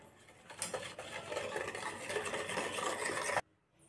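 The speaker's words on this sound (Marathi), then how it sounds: "आता साखर पूर्ण वितळेपर्यंत आपल्याला हे व्यवस्थित फेटून घ्यायचं आहे।" Butter (Amul), sugar and milk whisked together in a bowl for an eggless cake batter: a steady, close rapid scraping and swishing that stops abruptly near the end.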